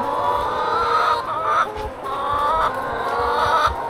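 A desi hen kept in a wooden cage clucks repeatedly, with close, throaty calls coming in short bursts over constant background noise.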